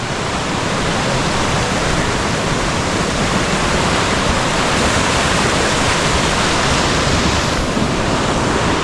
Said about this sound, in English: But that river's going to be really noisy